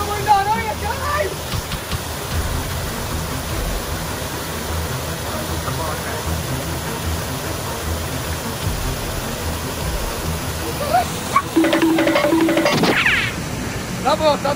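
A jungle waterfall roars as a steady, broadband rush of water nearby, with people talking over it and a few brief knocks and clatters toward the end.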